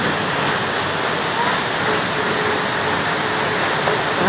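Floodwater rushes fast into a flooded house, a loud, unbroken broadband roar that sounds like a torrent or a waterfall and holds steady throughout.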